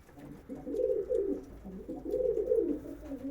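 Pigeons coo in soft, throaty, repeated phrases, a few birds close by with a low hum underneath, no talking.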